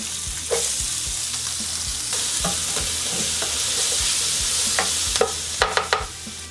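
Onions frying in a little avocado oil in a pan, with a steady close sizzle and occasional scraping stirs, plus a few sharper clicks of a utensil toward the end.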